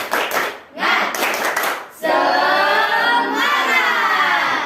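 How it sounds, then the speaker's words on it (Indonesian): A school classroom doing a rhythmic spirit clap during a social studies lesson; bursts of group clapping give way to children chanting loudly together, close and energetic. "Tepuk semangat"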